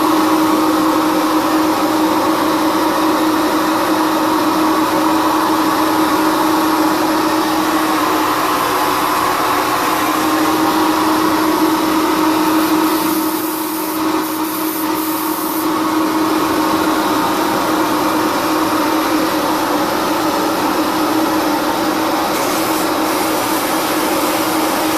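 Continuous hiss of a blaster working on a motorcycle part, a steady high-pressure air rush with a faint tonal hum beneath, holding level throughout with a brief dip partway.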